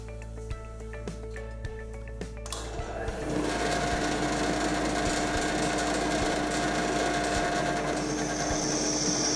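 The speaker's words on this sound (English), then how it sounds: "you then need to drill the holes." A power drill boring holes in a router table mounting plate, starting with sparse ticks, then running up to a loud, steady, high whine that continues alone without speech.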